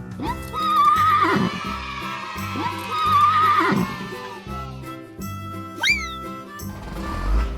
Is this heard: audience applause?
no